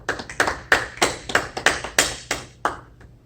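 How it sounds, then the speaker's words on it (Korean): A church youth group claps together for a student's birthday, heard as about a dozen sharp, evenly spaced claps ringing in a hall over roughly three seconds, then stopping. "다 같이 박수 한번 쳐주시죠."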